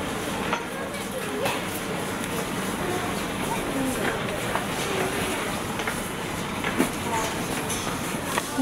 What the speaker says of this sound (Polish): Także mam, jaka to jest ładna kolejka.